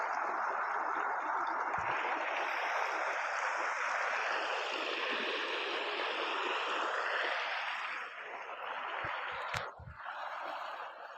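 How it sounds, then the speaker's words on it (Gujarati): Irrigation water carrying dissolved fertilizer flows steadily into a millet field in hot sun, a continuous rushing, gurgling wash heard close and alone, with a few brief knocks near the end. "ટાંકીમાં નાખી દીધું ખાતર, પાણી નાખીને ઓગાળી નાખ્યું, નળ મેકી દીધો ચાલો પી જાય પાણીની હેર ખાતર"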